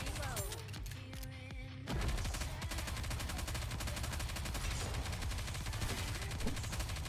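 Sustained automatic gunfire in the mobile shooter Nikke: Goddess of Victory, a dense, relentless rattle of shots after a brief stretch of game effects, loud and unbroken to the end.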